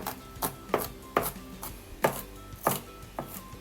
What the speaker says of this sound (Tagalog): Hiwain na lang natin ang sibuyas, ang bawang, yung mga ingredients